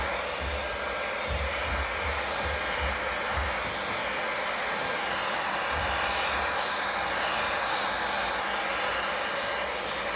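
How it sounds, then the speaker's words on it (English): A handheld blow dryer runs steadily on a key setting while drying and stretching out hair for a blowout, a continuous loud rushing hiss with a low rumble, unbroken for the full length with no voices. "It don't take long for my hair to stretch out from the blow dryer."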